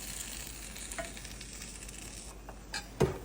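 Cabbage simmers in chicken stock in a pot, giving a soft steady sizzling hiss with occasional faint stirring scrapes and a small clunk near the end, quiet and without talk.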